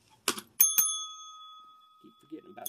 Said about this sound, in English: Let me get my bell, man.